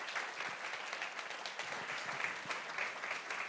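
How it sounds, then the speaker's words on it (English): Audience applause after a tech meetup presentation, steady even clapping from a modest crowd heard at a distance and fairly quiet, lasting a few seconds. "A big applause to Riccardo."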